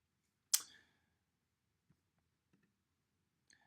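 A sharp single mouse click stands out in a quiet room, followed by a few faint soft clicks spaced over the next seconds while checkboxes and a button are selected.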